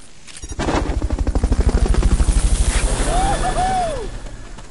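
Fulton recovery helicopter in the video game Metal Gear Solid: Peace Walker, a loud rapid rotor thumping that swells and holds steady, joined by whooshing and a brief rising-falling whistle near the end.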